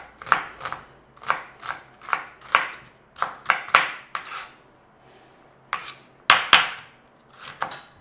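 A knife dicing an onion on a cutting board gives a run of close, crisp chops in uneven bursts, separated by short pauses.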